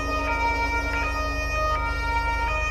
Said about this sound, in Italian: Tranquilli, sta arrivando l'ambulanza